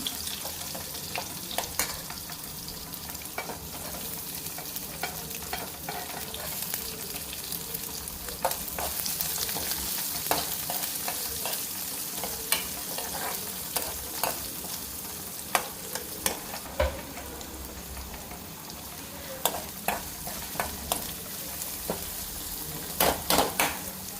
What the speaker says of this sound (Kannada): ಎಲ್ಲ ಸಣ್ಣ ಫ್ಲೇಮಲ್ಲೇ ನಾವು ಒಗ್ಗರಣೆ ಮಾಡ್ತಾ ಇರೋದು.